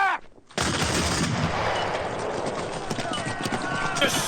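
A volley of musket fire in the TV series Sharpe, heard as a dense, sustained crackle of overlapping shots and battle noise after a shouted command, loud and continuous for several seconds.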